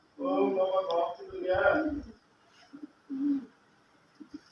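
Homing pigeons returning to the loft coo in low, throaty bursts, near and fairly loud, with a voice talking among the calls.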